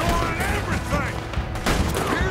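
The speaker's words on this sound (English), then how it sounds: "I got to take this guy on the turrets." Rapid turret gunfire in the video game Red Dead Redemption 2 hammers continuously in a loud, dense barrage, with a voice talking under the shots.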